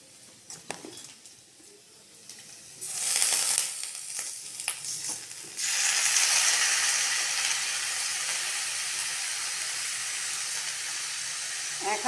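Washed Gobindobhog rice hits hot ghee with fried raisins, first faint stirring and clinks, then a loud burst of sizzle that settles into a steady, bright frying hiss.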